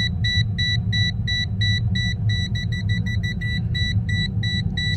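A Toptes PT-520B+ combustion gas leak detector beeps rapidly and evenly at a gas leak near a chimney, a steady string of sharp electronic tones over a constant low rumble.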